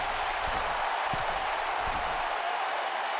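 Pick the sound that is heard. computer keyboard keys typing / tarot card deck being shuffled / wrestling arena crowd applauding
wrestling arena crowd applauding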